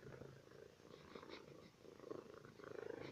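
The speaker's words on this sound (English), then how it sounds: "she's purring" Cat purring up close, a soft, continuous rhythmic rumble that swells and fades with each breath, quiet and alone.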